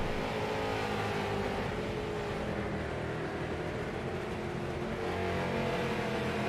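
Street stock race cars in iRacing at Hickory Motor Speedway make a dense, continuous roar of several engines at once, a steady wash of engine noise without clear breaks.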